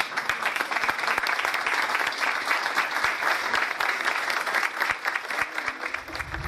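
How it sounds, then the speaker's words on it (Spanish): Audience applause at a school flag ceremony as the ceremonial flags and their escorts are sent off, a dense, sustained round of many hands clapping loudly and evenly throughout. "emotivo aplauso"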